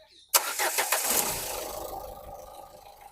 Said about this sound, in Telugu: ఇంజన్ అయితే స్మూత్ ఉంది సార్